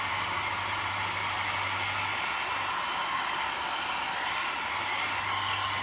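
A small handheld blow dryer blows over crackle paint laid on Mod Podge glue, giving a loud, steady, unbroken whooshing roar that runs for the whole stretch with no talking.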